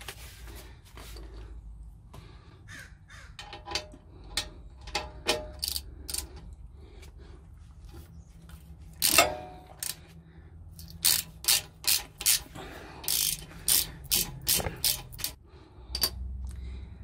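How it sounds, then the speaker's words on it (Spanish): Quick bursts of ratchet clicks from a 10 mm wrench loosening a bracket bolt on a Ford F-150 during an air bag suspension install, close and repeated in short runs with pauses and metallic handling. "Ahora vamos a proceder a remover este bracket. Eso es una llave 10."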